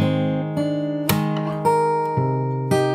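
Fingerstyle acoustic guitar plays the opening of a song, a steady run of plucked notes and chords ringing over one another, close and clear with no voice.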